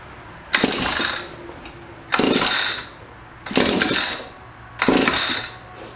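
Someone yanks the pull cord of an Echo PAS2620 power pruner four times, each pull making a loud rasping whir of about a second, spaced evenly apart, without the engine catching.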